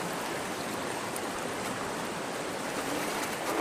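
Constant rushing splash of water pouring from the outlet pipe of a creek water extraction device at roughly five gallons a second, steady and close with no pauses or voices.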